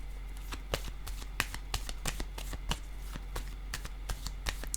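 Tarot cards are shuffled and laid down one by one, giving soft crisp snaps and slaps in an irregular rhythm, close and quiet, with no talk over them.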